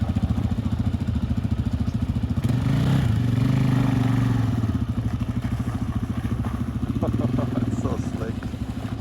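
A DRZ 400 motorcycle engine thrums steadily and close throughout, a rough pulsing idle-to-cruise drone with a slight surge in the middle, while a person talks over it at times.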